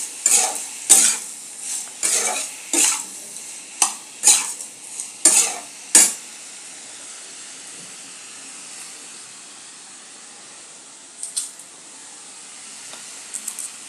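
Posto being stir-fried with salt and potato in a pan on a kitchen stove, with a run of sharp scraping and clattering stirring strokes for about six seconds, then a soft steady sizzle with a few faint clinks near the end.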